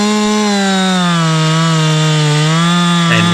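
A chainsaw runs steadily at high revs while cutting into a big punky log on a trail, its engine whine sustained and loud, then drops off sharply at the end.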